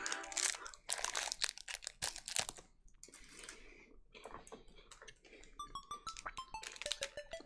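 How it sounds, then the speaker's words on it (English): Someone bites and chews a Kit Kat chocolate wafer bar, giving close, sharp, irregular crunches and crackles that come in clusters, alone with no talk. "Sorry if you can hear the crunch."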